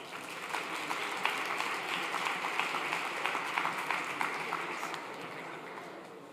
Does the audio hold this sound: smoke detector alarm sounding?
no